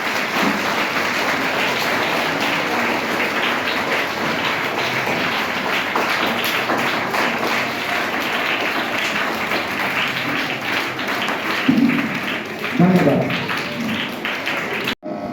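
An audience in a town hall at a school general-knowledge competition claps steadily to welcome and honour a guest, a dense, sustained patter of many hands lasting the whole stretch with a few louder thumps near the end.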